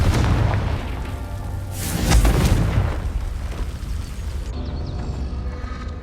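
A Confringo fire spell in Hogwarts Legacy bursts in a deep, rumbling boom about two seconds in, then fades into a lingering roar over a dense game soundscape.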